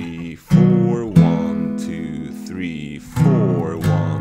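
Guitar playing the intro of a song, with clear sustained strummed chords changing every second or so, close and solo without talk.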